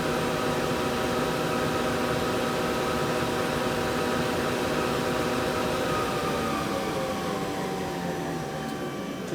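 An Okuma VTM100 CNC vertical turning center with milling runs its spindle at 500 RPM, giving a steady, close, continuous machine hum with a broadband whir and faint tonal whine that holds level throughout.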